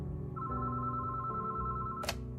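A telephone bell rings as a sound effect, a steady sustained electronic ring with a brighter burst near the end, heard clearly with no talking over it.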